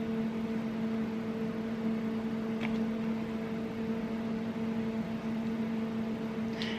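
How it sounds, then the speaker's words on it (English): A microwave oven runs with a steady hum and even whirring noise, constant and fairly close, with a faint click or two partway through and no voices. "I'm going to go ahead and pop this back in the microwave"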